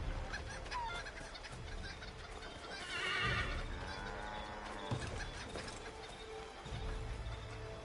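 A horse whinnies in Assassin's Creed 3, a rising, wavering neigh near the middle against steady outdoor game ambience and soft hoof clatter, with no talking.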